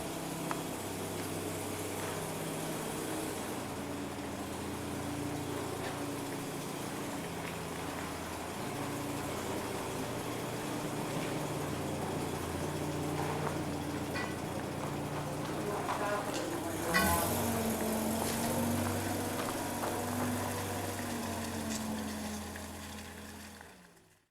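A Ferret armoured car's Rolls-Royce gasoline engine, rated at 129 horsepower, runs steadily as a low, continuous rumble with a deep hum. The sound holds at an even loudness with a brief surge near the end, and voices can be heard faintly underneath.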